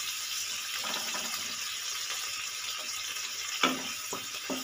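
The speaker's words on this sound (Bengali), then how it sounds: "এবারে আমি দিয়ে দেব জল।" Water pours and sizzles into a hot pan of pepper chicken with onions, a steady hiss and splash with a few sharp spatters near the end.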